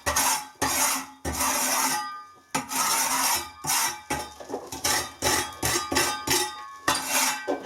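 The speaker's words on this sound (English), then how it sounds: "scrape back any bits of plaster which might be sticking out" A scraper rasps loose plaster off a wall in a series of close, fairly loud strokes, each a burst of harsh scratching separated by short pauses, speeding into quicker repeated scrapes toward the end, with no talk.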